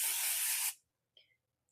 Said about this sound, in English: And hit that with some hairspray.